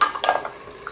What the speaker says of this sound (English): Just a quick stir.